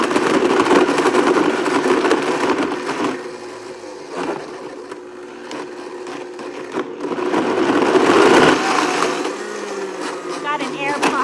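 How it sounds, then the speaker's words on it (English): A school blender whirs loudly on its smoothie setting, grinding with a steady motor roar that dips and surges as the contents churn. "I'm going to push the smoothie button and let it do its all work"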